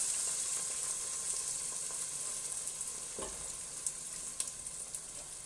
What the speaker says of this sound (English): we're going to add 1 cup of chicken stock just to deglaze this pan and let it reduce just a little bit to fortify the flavor